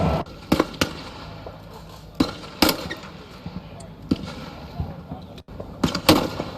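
40mm grenade rounds fired during Marine infantry training: a series of sharp, irregular bangs and thuds, mostly distant, spaced unevenly over a quiet outdoor background.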